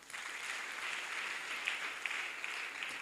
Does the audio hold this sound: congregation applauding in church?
yes